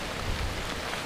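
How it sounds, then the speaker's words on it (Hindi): Heavy rain falls in a forest during a bushcraft survival shelter build, a dense, steady hiss of downpour that is loud and continuous, with no voices. "अभी बारिश सच में बहुत तेज बनी।"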